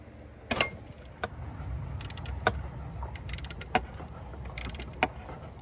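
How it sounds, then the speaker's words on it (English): A Dynamic Tools stubby flex head ratcheting wrench works a bolt in a tight spot during a thermostat replacement on a 2004 Chevy Trailblazer 4200 Vortec, giving sharp, close metallic ratchet clicks spaced about a second apart over faint background noise. "I'm going to use my Dynamic Tools stubby flex head ratcheting wrench to get this thing going."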